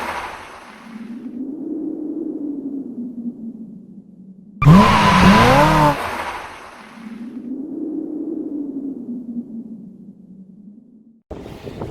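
Intro jingle for an automotive channel, built from swelling whooshing car-like sweeps broken by a sharp burst of screeching tire and skid effects. A final short hit cuts off the sequence.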